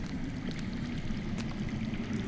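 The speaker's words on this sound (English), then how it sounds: "That's water. I hear water. From underground." Running water rushes steadily underground in a Game of Thrones video game, a low continuous faint gurgling flow with no other sounds over it.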